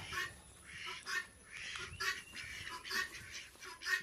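A duck quacks repeatedly in short rhythmic bursts, fairly faint and moderately distant, with other birds faintly in the background.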